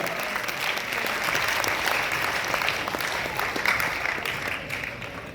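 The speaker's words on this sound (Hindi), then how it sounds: "ब्रिजमोहन भारद्वाज जी के जोरदार तालियां" A theatre audience gives loud, sustained applause after a university play introduction, dense clapping holding steady for several seconds before easing slightly at the end.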